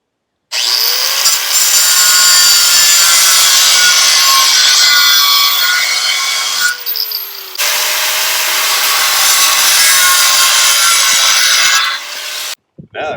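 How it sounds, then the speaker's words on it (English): An angle grinder cuts into metal while a welded chain hook is being made, a loud, steady, harsh whine running for several seconds, briefly dipping, then resuming before stopping abruptly. "Get to go get my grinder."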